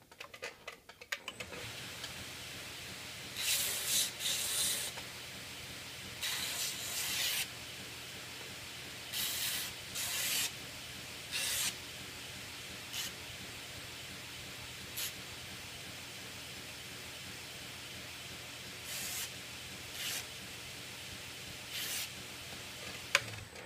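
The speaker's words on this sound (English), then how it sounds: "By sanding this flat surface and stuff" Wooden knife scales being sanded flat after roughing in, a series of short, soft rasping strokes in separated bursts against a quiet background, with no talking.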